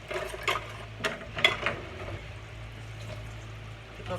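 Spatula stirring buttery toffee popcorn in a pan, soft scraping and rustling with a few louder clicks and knocks, close and fairly quiet, no talking.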